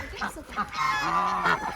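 A close, loud honking call from a duck or similar waterfowl, a few nasal squawks run together over under two seconds.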